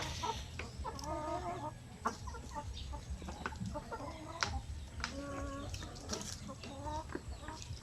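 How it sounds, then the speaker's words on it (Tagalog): Native chickens clucking in a farmyard, with repeated short clucks from a large rooster and other birds against steady outdoor background noise at moderate distance. "Malaki na rooster to"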